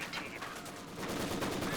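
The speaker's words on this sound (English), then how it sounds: "MG42 does suppress and pins down the Pathfinders." MG42 machine gun fire in Company of Heroes, a continuous rattling stream of rapid shots heard at moderate distance over a busy battle backdrop.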